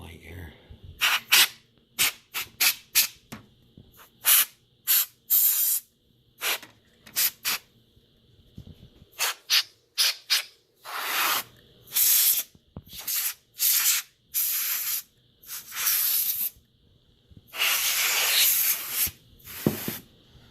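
Short bursts of aerosol spray from a can aimed at a PS4 Pro cooling fan, loud and close, firing in quick irregular blasts with a few longer sustained sprays and brief pauses between.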